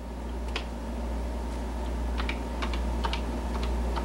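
Commands being typed on a Color Computer keyboard, several light irregular key clicks over a steady mains hum, close up with no talking.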